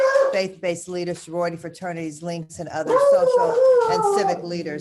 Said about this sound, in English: that's my dog making a lot of noise over there.